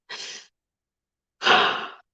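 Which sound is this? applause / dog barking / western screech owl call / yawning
yawning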